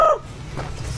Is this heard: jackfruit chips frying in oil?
no